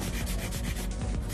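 A 100 grit file rasping across acrylic nails in quick back-and-forth strokes, a close, rhythmic scratchy rubbing over a brief moment with no speech.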